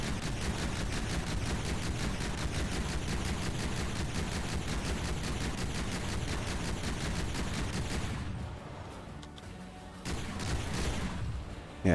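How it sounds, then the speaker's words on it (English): Rapid, continuous gun turret fire in From the Depths, a dense, loud stream of evenly spaced shots that runs without a break, drops away briefly near the end, then resumes. "Yeah, that new gun turret's looking nice."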